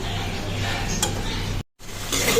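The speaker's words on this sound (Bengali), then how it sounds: "সুন্দর করে মশলা কষানো হয়ে গিয়েছে" Spice masala with garlic paste and salt frying in a pan, a continuous close sizzle with scraping stirring, a brief clink partway through and a short gap of silence before the frying resumes; no one speaks.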